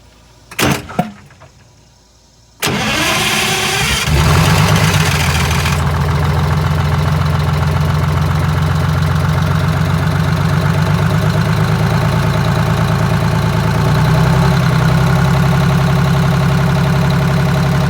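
A Detroit Diesel 6V92TA in an MCI MC12 coach, with a bad exhaust manifold, a fuel leak and no turbo boost, cranks briefly, catches and settles into a loud steady rumbling idle that runs on alone.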